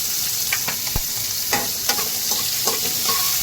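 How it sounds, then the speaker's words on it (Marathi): Green chilies and cumin sizzle hard in hot oil in a kadhai, a steady bright crackle broken by several short scrapes and knocks of a stirring spoon, close and loud with no talk. "पहिलं मिरची टाकून घेऊया कारण मिरची चांगली फ्राय झाली पाहिजे"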